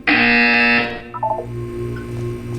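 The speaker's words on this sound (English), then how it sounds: "You will hear a buzzer." A harsh electronic buzzer in the video game Portal 2 blares loudly for nearly a second, then cuts off, leaving a low hum and a few faint mechanical clicks.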